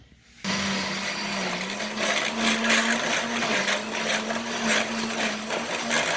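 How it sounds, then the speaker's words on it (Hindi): A blender switches on abruptly and grinds soaked masoor lentils, running continuously with a loud, steady whirring grind, its pitch wavering slightly as the contents churn. "अब मैं इसको ब्लेंडर करके लाती हूँ, बिल्कुल पीसनी है"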